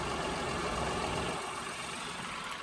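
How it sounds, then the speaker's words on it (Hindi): Tata Punch compact SUV engine idling, a steady, even mid-low hum heard up close with no talk over it. "और इसकी इतनी इंजन नॉइस है, आप सुन सकते हो।"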